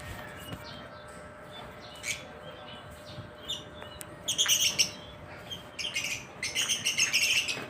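Pet lovebirds in a new cage give sharp chirps and tweets, scattered at first and then in dense bursts toward the end, close and fairly loud over a low background hum.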